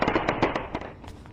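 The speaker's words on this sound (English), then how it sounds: "there were so many shots, it actually sounded like fireworks" Rapid gunshots ring out during a police shootout with a man in a mental health crisis, a quick burst of about eight sharp cracks in close succession that sound like fireworks.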